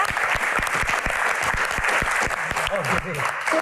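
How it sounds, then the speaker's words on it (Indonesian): Audience applause for guests arriving at a Q&A event, steady crowd clapping with a few sharp individual claps standing out, while a voice speaks over it toward the end. "Tepuk tangan sekali lagi teman-teman."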